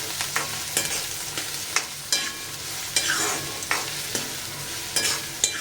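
Finely chopped onions sauté in a pan with whole spices (bay leaf, clove) for dahi chicken, a constant sizzle broken by regular sharp spatula stirs and scrapes, close and alone.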